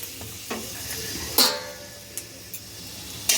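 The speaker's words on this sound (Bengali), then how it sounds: "তেলের মধ্যে ফোড়নে দিয়ে দিলাম শুকনো লঙ্কা" Dried red chillies tempering in hot oil in a kadai make a soft, steady sizzle, punctuated by a few sharp clicks and taps of a utensil against the pan, near and fairly quiet.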